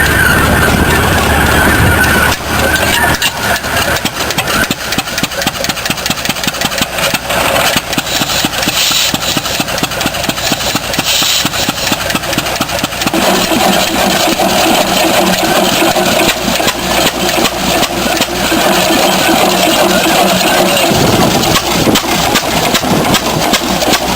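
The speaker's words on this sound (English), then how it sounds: "Take a look at the 1892 Fairbanks Morse engine, a 9-horsepower, single-cylinder beast powering a wild redneck go-kart" A 9-horsepower single-cylinder 1892 Fairbanks Morse engine, a 15-liter relic powering a go-kart on a salvaged 1950s Ford frame, runs loud and close with a rapid, steady chugging beat that shifts slightly in pace over time.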